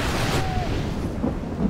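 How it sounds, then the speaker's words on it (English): Thunder and rain in a Total War mod battle: a steady wash of rain noise with a low rumble underneath, fairly loud and continuous, with a few faint clicks from the battle. "Oh, of course, it's got to start raining too."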